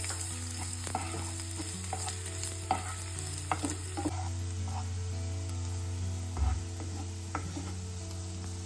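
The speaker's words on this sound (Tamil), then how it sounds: "அந்த எண்ணெய் சூடானதும் நம்ம கட் பண்ணி வச்சுருக்க பூண்டு, பச்சை மிளகாவை சேர்த்துடலாம்" Cut garlic and green chillies fry in hot oil in a pan, giving a steady close sizzle and hiss, with occasional clicks of stirring and a low hum underneath, no voices.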